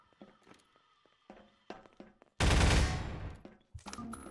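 Half-Life 2 video game gunfire: scattered light taps and footsteps give way to a sudden loud burst of automatic fire lasting about a second, fading out before a few more sharp shots.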